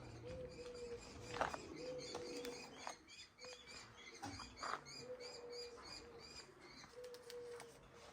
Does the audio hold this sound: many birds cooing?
yes